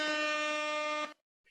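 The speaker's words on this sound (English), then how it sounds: "Air horns for that." Air horn sound effect, one loud, sustained brassy blast of about a second that cuts off abruptly, followed by silence and a faint short tone.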